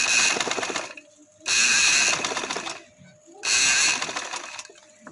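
Sewing machine stitching along the cut edges of a women's casual dress sleeve, three loud bursts of rapid whirring with brief quiet pauses between them, close by.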